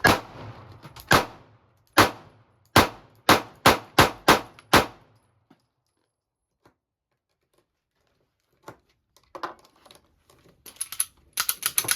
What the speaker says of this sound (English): All right, I'm gonna start shooting low.